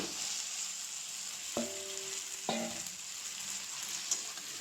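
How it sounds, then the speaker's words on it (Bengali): Fried chicken pieces dropped into a pan of masala already cooked down until the oil separates, giving a steady soft sizzle and a couple of sharp bursts of frying as the pieces go in, with no talk. "মশলা থেকে তেল ছেড়ে দিয়েছে। এখন দিয়ে দেব চিকেন ভাজাগুলো।"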